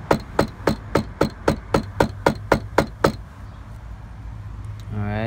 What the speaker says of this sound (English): and then kind of just beat it down with a hammer.